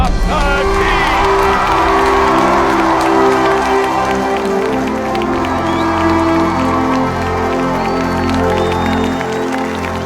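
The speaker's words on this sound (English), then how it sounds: "listening to the thunderous applause from the audience" An audience at an award ceremony for a teaching competition applauds loudly, mixing steady clapping with cheers and shouts throughout, while a voice speaks briefly over the crowd.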